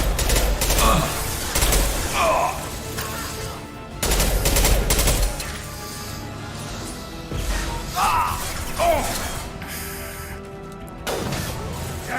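Gunfire in the video game Mass Effect 2, with repeated heavy bursts of shots and impacts in several separate volleys, loud and close, with someone talking between and over them.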